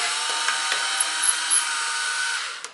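A Hitachi cordless driver drill running continuously, a steady high-pitched motor whine up close, with a few light ticks, before it spins down at the end.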